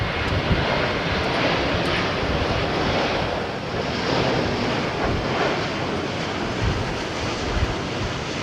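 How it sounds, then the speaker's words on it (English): A British Airways Airbus A350 on approach to London Heathrow in windy conditions roars steadily and loudly overhead, a continuous broadband jet rumble with wind noise throughout. "British Airways 350 on approach."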